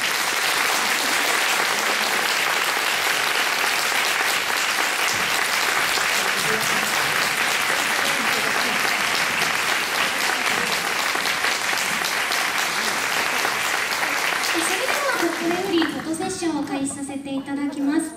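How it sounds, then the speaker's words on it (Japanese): A large audience at a stage talk show for a Kamen Rider OOO film greets the cast with sustained, dense applause filling the space for about fifteen seconds, then it fades as a voice begins speaking over the dying claps. "大きな拍手でお迎えください。"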